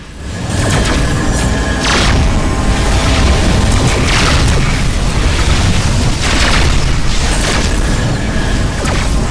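Missile explosions in the space combat game Rebel Galaxy rumble as dense, continuous booms and bursts, with several sharper blasts standing out over a loud, unbroken roar throughout.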